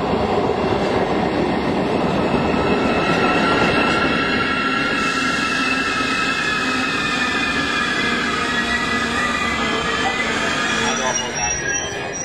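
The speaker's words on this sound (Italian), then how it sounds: "e oggi il treno a vapore." A steam train hauled by locomotive 625 100 rumbles past in Franciacorta, Italy, with wheels screeching and metallic squeals over a steady roar, loud and continuous.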